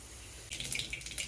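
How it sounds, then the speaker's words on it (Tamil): Mustard seeds spluttering in about two teaspoons of hot oil for a thandu keerai (spinach) poriyal: quiet at first, then a sudden burst of sharp, rapid crackling pops close by, no speech. "கடுகு பொரிய ஆரம்பிச்சிருச்சு."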